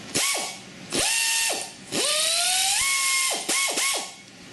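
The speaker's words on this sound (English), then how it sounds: "the air ratchet's a little bit louder" A pneumatic air ratchet runs in several loud bursts, its whirring pitch rising and falling as the trigger is squeezed and released, with short quick pulses near the end; no one talks.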